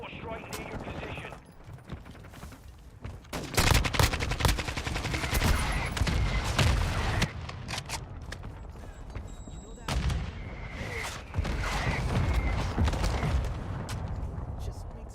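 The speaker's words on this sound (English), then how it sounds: "Hostile mortar strike near your position." Mortar strike explosions in Call of Duty burst as dense, loud rolling blasts and crackling gunfire in two long waves, separated by a calmer stretch, with an automated voice announcing over the battle.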